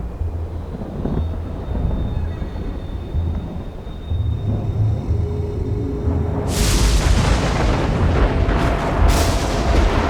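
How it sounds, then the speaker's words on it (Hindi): Heavenly thunder rolls in a deep, continuous rumble, then swells into a louder, crackling boom partway through and keeps rumbling without speech. "स्वर्गीय गड़गड़ाहट चल रही है, ये तो बुरा हुआ।"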